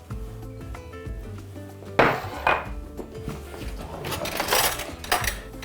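A small cooking pot set down and handled in a home kitchen, with a few clanks and metallic knocks, one sharper hit midway, and light rattling against steady background hum.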